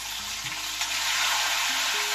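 Whole spices and tomatoes fry in a hot pan in a home kitchen, making a loud, continuous close sizzle with some stirring movement throughout and no talking.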